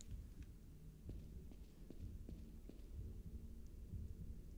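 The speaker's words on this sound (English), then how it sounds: "I hear my heart beating really fast." A heartbeat in the horror video game Bendy and the Dark Revival, quiet, steady, rapid low thumps pulsing over a dark droning hum.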